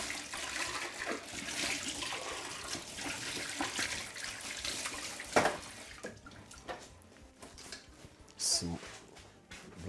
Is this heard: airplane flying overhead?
no